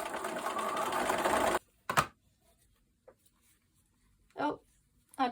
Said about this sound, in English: Okay, I'm ready to stitch